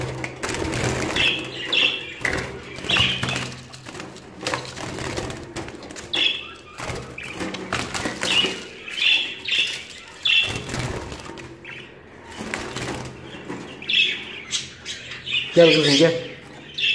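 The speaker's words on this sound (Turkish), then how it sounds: "Bu arada kuşlar da uyandı. Her biri bağırışıyor." Caged budgerigars squawk and chirp in a busy, overlapping chorus at a home breeding setup, with sharp calls and occasional wing flutters under a person's intermittent speech.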